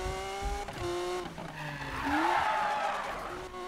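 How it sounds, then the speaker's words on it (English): Liberty Walk Lamborghini Aventador, turbocharged, in Need for Speed 2015 revs hard against the rev limiter, with a stuttering, bouncing engine note and tire squeal rising midway, fairly loud and with no talking. "This thing's just slamming off the rev limiter."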